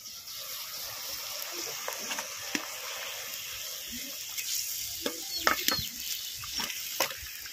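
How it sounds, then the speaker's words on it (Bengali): Fried parse fish are added to a pan of gravy made with mustard and poppy seed paste. The cooking sounds as a soft sizzle and bubbling, cut by scattered sharp clinks and scrapes, with no voices. "এবার ভেজে রাখা মাছগুলো দিয়ে দেবো।"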